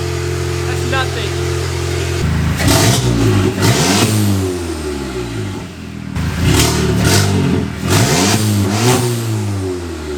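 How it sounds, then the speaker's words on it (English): Car engine with an open downpipe exhaust revving hard in a garage, several loud rising and falling blips in two bursts with harmonic sweeps, close and dominant. "You guys just heard the open downpipe."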